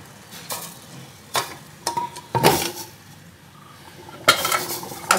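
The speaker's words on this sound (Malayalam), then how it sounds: "അതുകൊണ്ട് അത് തിളയ്ക്കുന്നതിന് മുമ്പ് നമുക്ക് ഈ പാത്രം എടുത്ത് വെക്കാം" A cooking pot is lifted and set down on a kitchen surface, giving a few sharp metallic clanks and knocks with quiet pauses between, close and alone.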